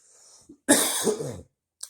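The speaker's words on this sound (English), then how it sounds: "sorry about the coughing and whatnot" A couple of close, harsh coughs with some throat clearing, a short burst after a brief pause, then one more small cough at the end.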